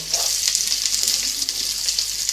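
Small chopped onion frying in a pan until reddish, giving a steady, close, even sizzle that runs through the whole stretch with no talk.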